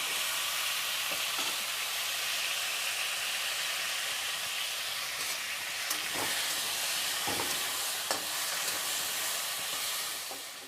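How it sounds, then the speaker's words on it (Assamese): Kosu fish frying in hot oil in a kadai, a steady dense sizzle with occasional sharper pops and stirring clicks, close and continuous throughout. "ইয়াতে তেলত দি দিছো ৰঙাকৈ ভাজি লম"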